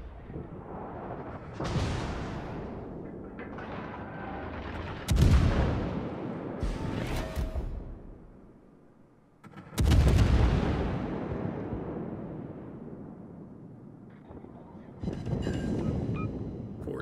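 The rear turrets of the USS Alaska cruiser fire in World of Warships: several heavy booming salvos a few seconds apart, each with a rolling rumble behind it, and wind-like noise between the shots.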